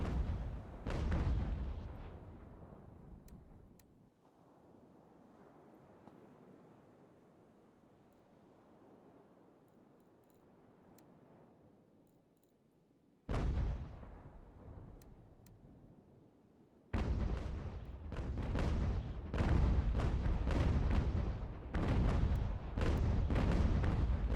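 Cannon batteries fire grape shot in the strategy game Ultimate General: American Revolution, with heavy booming volleys and rumbling bursts, then a quieter stretch of distant rumble before dense, rapid repeated blasts return loud toward the end.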